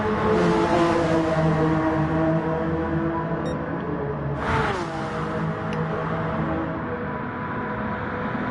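Honda NSX Gr.3 race car in Gran Turismo at Suzuka Circuit, its engine droning steadily with layered harmonics and a brief whooshing swell midway, loud and continuous throughout.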